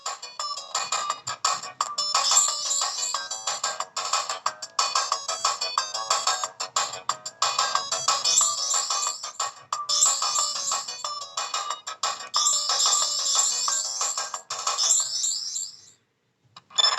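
Mario Kart game music from a Nintendo 64 running on an Anbernic RG351M handheld, thin, tinny and bright, playing continuously through a small speaker before cutting out near the end.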